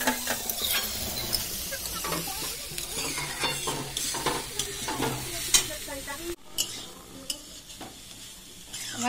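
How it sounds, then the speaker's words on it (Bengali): Shredded cabbage, carrot and capsicum sizzle in hot oil in a kadai while a spatula stirs them in steady scraping strokes, with frequent close metallic clinks against the pan and no talking. "এটা হালকা হালকা করে নেড়ে নেবো।"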